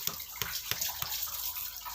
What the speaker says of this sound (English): We have to pass water for at least 5 minutes